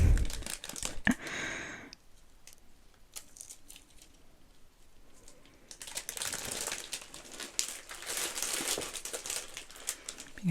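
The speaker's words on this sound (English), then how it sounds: "I just wanted to have the sounds of the packet" A plastic salad packet crinkles loudly up close at first, falls quiet for a few seconds, then rustles and crackles again in busy bursts.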